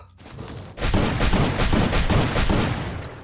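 Rapid shotgun blasts in the video game Free Fire, a quick series of about six sharp reports following a brief quiet lead-in.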